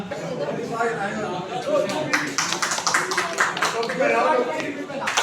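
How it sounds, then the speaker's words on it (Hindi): A crowd claps in scattered, uneven bursts at a political membership-drive meeting in Tharali, while people talk over it in the background. "जोरदार तालियां"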